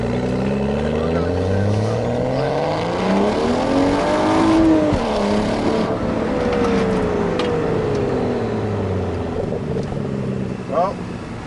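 A BMW 335i E92 coupe with the N55 single-turbo engine and aftermarket exhaust pulls hard, its engine note rising and falling through gears as it accelerates, loud and close, with road roar underneath.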